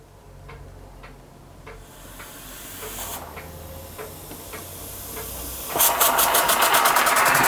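A Weeden 44 model steam engine runs on compressed air from a small compressor at under 10 psi, ticking in a steady rhythm over a constant hiss that speeds up and grows louder near the end.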